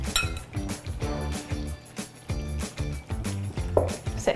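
Eggs beaten with salt in a bowl for a Spanish tortilla, whisked in a steady, rapid rhythm of clinking strokes that stays close and continuous throughout.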